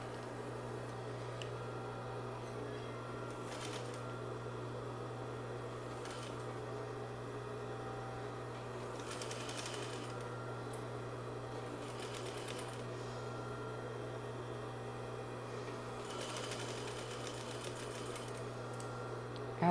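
A sewing machine stitching a patch pocket onto a messenger bag, with a steady low motor hum and soft mechanical rattle running continuously, faint and close, with no talk.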